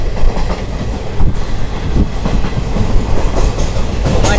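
Moving passenger train on the Samta Express route through Odisha and Andhra, with a steady loud rumble and rhythmic clickety-clack of wheels over rail joints heard from inside the coach, continuous and without talk.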